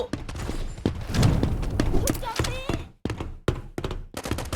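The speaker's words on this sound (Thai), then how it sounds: "มีคนยิงฉันอยู่ มีคนยิงฉันอยู่" Rapid bursts of gunfire in the Mini World Royale shooting mode, sharp repeated shots and thuds in quick clusters mixed with game effects and excited voices over them.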